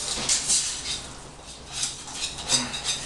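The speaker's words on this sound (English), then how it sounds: "Mix the cheese into the mac." Cheese mixture being stirred into macaroni pasta in a pot, with light repeated clinks and scrapes of a utensil against the pot and a soft wet mixing sound, no voices.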